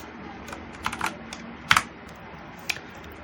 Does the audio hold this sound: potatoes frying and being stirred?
no